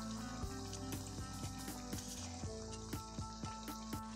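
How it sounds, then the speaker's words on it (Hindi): Cabbage kebabs shallow-frying in a pan over a low flame, giving a steady moderate sizzle with faint crackles and occasional soft clicks as the pieces are turned, with no one talking. "ये देखिए, हम इसको पलट पलट कर सेक लेंगे"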